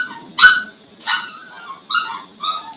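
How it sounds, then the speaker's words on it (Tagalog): A dog barks four times in short, high yaps spaced about half a second apart, close by and fairly loud, with no talking. "Pagpasensya nyo na yung aso. Maingay."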